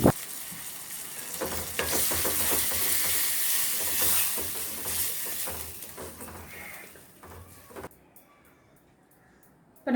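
Curd is poured into a sizzling tempering in a pan while making curd rice, a loud, crackling sizzle with stirring scrapes that fades away toward the end as the stove is turned off.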